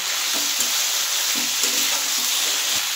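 Medium tomato cut into thin long strips frying in hot oil, a dense, loud, continuous sizzle close up with faint spatula scrapes and stirring taps underneath.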